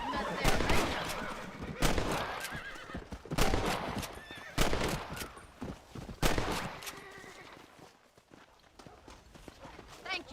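Horses whinny and hooves clip-clop in the Red Dead Redemption video game, with sharp bursts of rifle gunfire scattered through the scene and voices talking over it.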